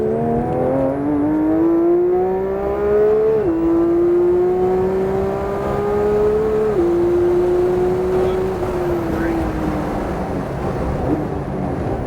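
A Porsche race car engine on a track pulls hard through the gears, a loud, close, steady drone that rises in pitch, drops briefly at each shift and climbs again, with no talking.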